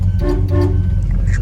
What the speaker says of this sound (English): There's your horn.